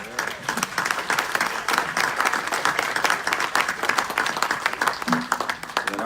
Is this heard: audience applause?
yes